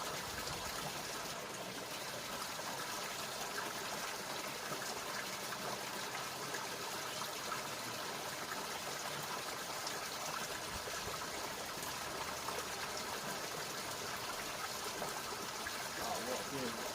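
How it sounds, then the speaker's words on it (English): Water from a fish tank pouring into a bucket, a steady, broad rushing and trickling that continues evenly throughout and stays fairly quiet. "Just pour it in the bucket."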